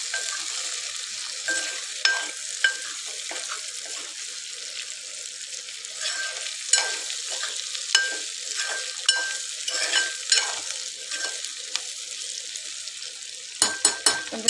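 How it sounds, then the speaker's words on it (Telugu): Okra pieces frying in hot oil in a pan for a curry, giving a steady, close sizzle with intermittent scraping knocks as the pan is stirred, and no talking. "కొంచెంసేపు ఆయిల్లో వేగనిద్దాం బెండకాయని"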